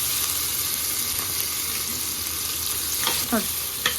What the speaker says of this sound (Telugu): బాగా ఆనియన్స్ బాగా వేగిపోయి మసాలా, అల్లం వెల్లుల్లి మసాలా పేస్ట్ వేస్తున్నాను